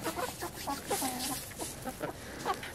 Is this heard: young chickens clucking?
yes